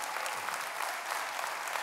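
An audience claps steadily in welcome for a speaker, dense continuous applause with no talk over it.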